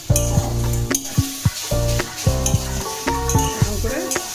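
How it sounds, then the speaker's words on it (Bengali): Jute leaf saag frying in a pan gives a steady close sizzle, with repeated scraping and clanking strokes from a spatula stirring the greens at an irregular rhythm. "শাক ভাজা হয়ে গেছে, এবারে নামিয়ে নেব।"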